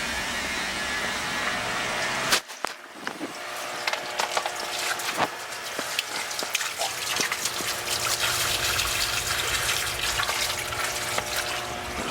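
Water drains steadily from a 40 gallon electric hot water heater with no hot water, a continuous broadband rush and trickle that follows a brief gurgling knock and keeps going without pause, close and moderately loud.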